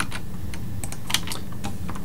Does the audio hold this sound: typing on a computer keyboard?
yes